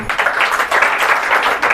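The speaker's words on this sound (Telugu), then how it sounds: "మీరందరూ చప్పట్లు కొట్టండి" A seated audience at a church gathering bursts into brisk, dense applause, many hands clapping together close and loud for the whole short stretch, with no one speaking over it.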